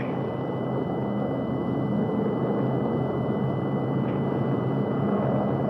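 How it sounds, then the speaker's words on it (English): A 1940s airplane's engines drone steadily through the whole stretch, a dense, even roar that never rises or fades. "I can hear your motors"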